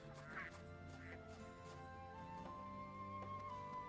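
Ducks quack repeatedly in the Baten Kaitos GameCube RPG, short calls scattered over a busy layer of game music and ambience, moderately loud throughout.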